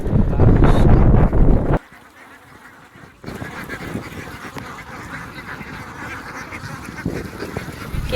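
Ducks kept for egg laying near open water at a wetland or riverside honk and quack loudly together for the first two seconds, then fade to a busy, softer background of farmyard sound.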